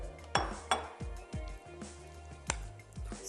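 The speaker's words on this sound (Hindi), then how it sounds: "अब हम ले लेते हैं टोंग" Metal kitchen tongs picked up and knocking against dishes in a home kitchen, making a quick run of close, bright clinks and taps of metal on crockery, no talking.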